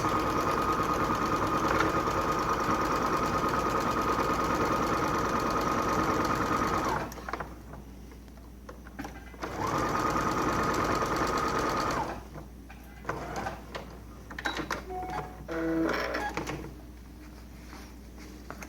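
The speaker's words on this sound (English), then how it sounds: "I just sew the little face onto the hat with a 1/4 inch seam allowance" Sewing machine stitching a small face onto a hat piece for a paper-pieced Christmas elf mug rug, running loud and steady for about seven seconds, pausing, then another short run followed by fabric handling and clicks.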